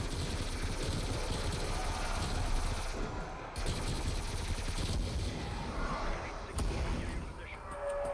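AK47 gunfire in Cold War Zombies, sustained rapid automatic bursts mixed with heavy explosive booms and game effects, loud and dense with only brief gaps, while a player talks over it.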